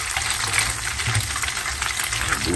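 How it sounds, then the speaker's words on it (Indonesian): Papaya leaves mixed with egg fry in a pan with a steady, dense sizzle and crackle, close and continuous throughout without talk. "goreng daun betik, campur telur."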